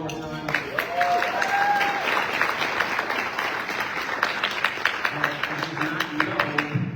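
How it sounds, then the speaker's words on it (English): Banquet audience at an NAACP California/Hawaii youth convention breaks into sustained applause, a dense wash of clapping that thins into scattered claps near the end, with faint voices and a brief tone mixed in. "Can we give a round of applause to Jasmine one more time?"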